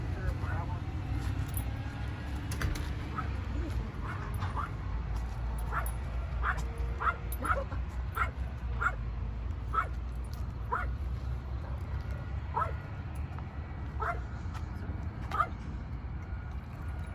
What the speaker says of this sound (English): you got a barking dog in this one